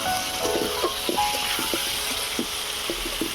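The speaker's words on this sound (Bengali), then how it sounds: "এবারে দিয়ে দিচ্ছি চিংড়ি মাছ" Shrimp frying with potatoes in a pan, a constant close sizzle with repeated soft knocks and scrapes of stirring at an irregular pace, no voices.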